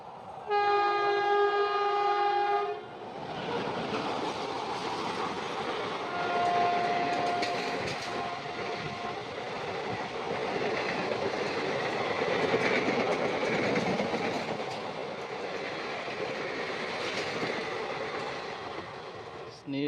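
A local Asansol–Varanasi MEMU passenger train runs along the rails, opening with a loud horn blast, then a continuous rumbling roll with rhythmic wheel clatter and another short horn partway through.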